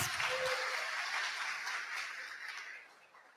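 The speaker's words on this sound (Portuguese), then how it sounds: "Por favor, palmas para Araguatins." An audience claps at a talk on tax reform and tax-authority digitization, a dense wash of hand claps that starts full and fades gradually over a few seconds.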